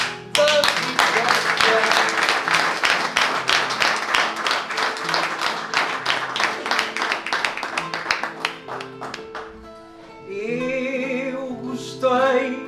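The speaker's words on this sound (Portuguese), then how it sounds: "agora palmas para o José, orgulho da praia" An audience claps for a singer at a Portuguese cantoria at a Santa Bárbara festival, a sustained burst of dense hand claps that thins toward the end before singing with accompaniment takes over.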